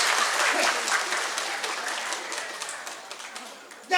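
Audience applause at a Balinese dance performance, a dense, steady burst of clapping from a crowd that fades slightly toward the end.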